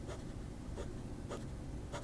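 Hongdian D6 fountain pen nib gliding across paper, a faint scratchy rustle with a few brief stroke bursts, close and quiet with no voices.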